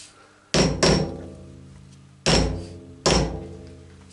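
Sharp hammer taps settle a metal block down into a machinist's vise in a workshop: four loud, close knocks, two in quick succession, then two more spaced apart, each ringing briefly before fading.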